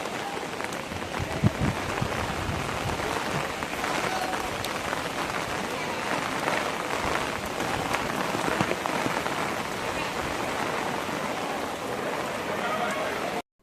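Steady rain pouring in the courtyard of the Vidyashankara temple, a dense, continuous hiss of drops striking stone surfaces close by, with a person's voice speaking over it.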